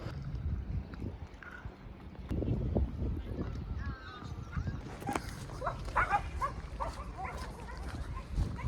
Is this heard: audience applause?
no